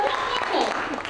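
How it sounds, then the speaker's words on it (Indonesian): Audience applause at a Sunday school teachers' retreat session, a brief burst of steady clapping heard up close and fairly loud, blended with voices. "Tepuk tangan buat kata-kata kita luar biasa."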